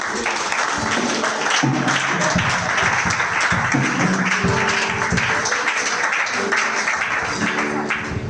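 Church congregation at a prayer service applauding, with dense, steady clapping from a large crowd that continues without a break, loud and close.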